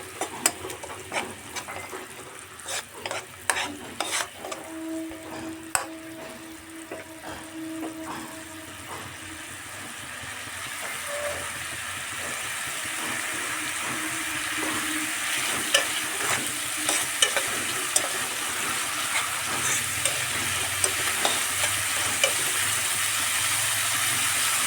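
Spice masala for a coriander katla fish curry sautés in a pan, with an even hissing sizzle and frequent stirring scrapes and clicks, the frying growing louder and denser toward the end.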